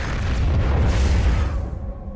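A Yamato cannon blast from the StarCraft 2: Heart of the Swarm game, a heavy, booming explosion that rumbles for about two seconds and then fades, loud and alone.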